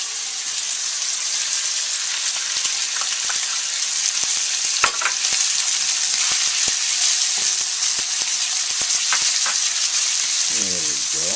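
Mushrooms frying in a pan for spicy instant ramen, a loud continuous hiss and sizzle with occasional stirring clicks and scrapes, heard alone without talk.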